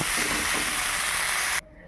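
Fish sizzles in hot oil in a frying pan, a loud, steady hiss that stops abruptly near the end and drops to a quiet background.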